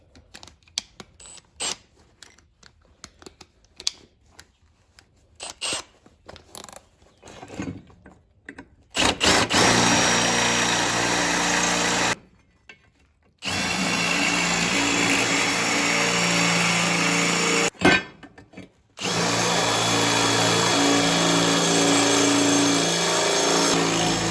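Loud continuous hammer drilling with a 5/16 bit in three long bursts with brief pauses between, preceded by scattered clicks and taps, while fitting a crossmember on a BMW E30.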